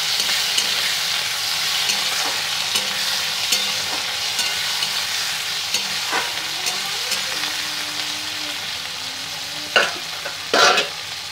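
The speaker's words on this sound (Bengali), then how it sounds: "ওর মধ্যে দিয়ে দেবো গোটা জিরে, দুটো গোটা লঙ্কা দিয়ে এটা ভালো করে ভেজে নেব।" Chopped tomato frying with whole cumin seeds and two whole chillies, a continuous close sizzle broken by occasional spatula scrapes and stirring knocks toward the end.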